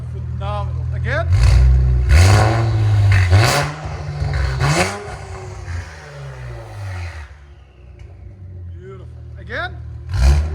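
An Infiniti Q60 3.0L twin turbo V6 with an aftermarket exhaust and valves open revs repeatedly nearby, loud rising and falling blips with crackles between them, under people talking.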